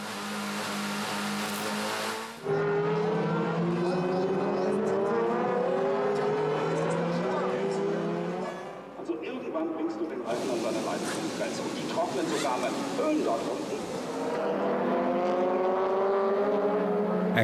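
Audi DTM touring race cars lapping a circuit, engines howling and shifting up and down through the gears nearby, with tire hiss and passing surges, under continuous commentary.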